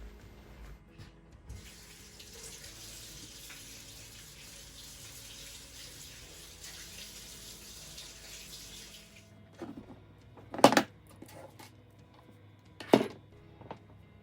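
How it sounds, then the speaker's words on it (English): Warm tap water runs steadily into a sink while chainsaw parts are washed, a soft continuous splash for several seconds that then stops, followed by a few brief knocks and splashes. "I'm gonna wash this with just warm water."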